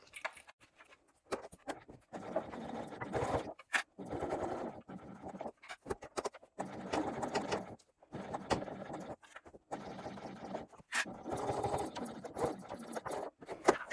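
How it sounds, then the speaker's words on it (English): A sewing machine stitches through the thick layers of a lined boxy bag in short whirring bursts of a second or two, separated by brief pauses, close and fairly quiet. "help your sewing machine get through all of those layers"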